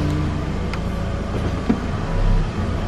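A 2009 Mitsubishi Eclipse Spyder's engine runs at a steady idle while its transmission is checked, producing a continuous low, close rumble with a brief thump partway through and no talking.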